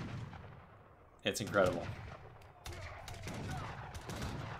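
Artillery booms and scattered gunfire from a mass of cannons and organ guns in Age of Empires III, steady rumbling battle noise with a louder burst of shots, someone talking excitedly over it.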